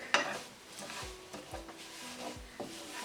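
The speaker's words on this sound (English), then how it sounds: "Need to fry this on low flame, and see that this also doesn't burn because this fries very quick." Food fries gently in a pan over a low flame, a soft steady sizzle running throughout, with a few dull stirring knocks against the pan.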